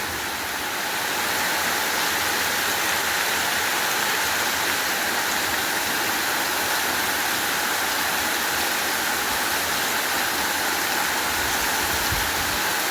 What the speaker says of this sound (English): It's been raining pretty hard, man.